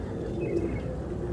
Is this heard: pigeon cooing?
yes